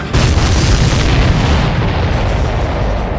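Booming explosions in the combat flight video game Ace Combat 7, a continuous, loud rumbling blast that swells at the start and rolls on steadily, close and alone without talk.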